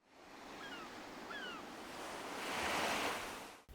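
Ocean waves set as the ambient sound in Animal Crossing: a continuous surf wash that slowly swells louder, with a couple of faint high chirps early on.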